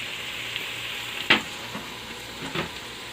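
Spices for chicken biryani, chili powder and coriander powder with softened onion, sizzle steadily in a hot pan under a continuous frying hiss, broken by a few sharp stirring scrapes, close and fairly loud, no talking.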